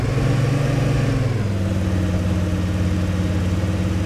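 A vehicle engine in ArmA 3 holds a strong, steady droning roar close by, its pitch dropping slightly as the revs settle into a sustained low hum.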